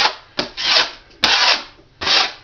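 A drywall knife drags joint compound down and into an inside corner, making close scraping swipes in four distinct strokes with brief gaps between them.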